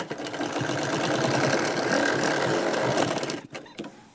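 Sewing machine running steadily while stitching a straight fitting seam on a lined blouse with four tucks and a belt, a close, continuous mechanical whir that stops abruptly near the end.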